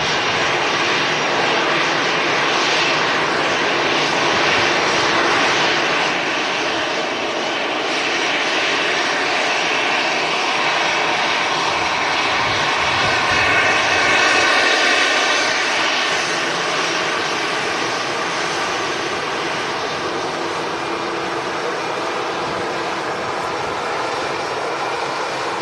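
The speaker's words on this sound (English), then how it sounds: "Here comes an EasyJet, A319, the smelly EasyJet." An EasyJet Airbus A319 arrives at Manchester Airport, its jet engines roaring loudly and steadily for a long stretch as it passes, with no voices.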